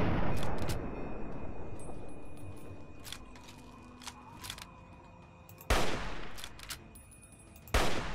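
Gunfire in the Fallout 3 video game: a burst of rapid shots at the start, scattered single cracks through the middle, and two loud blasts near the end over a low ambient hum.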